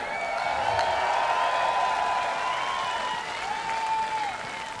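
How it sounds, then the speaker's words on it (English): Large festival crowd at a concert in München applauding and cheering, a steady dense wash of clapping with a few whistles, holding loud throughout. "you need to give yourselves a round of applause for keeping it real like that"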